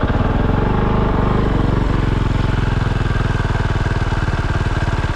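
A Kove 450 motorcycle engine with advanced timing idles loudly and close by, a rapid, even single-cylinder chug that settles into a steady rhythm.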